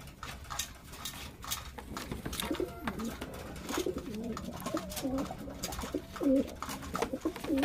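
Several pigeons coo in a loft after a harvest of squabs, soft repeated throaty calls layered over light scuffling and fluttering, fairly close, with no talking.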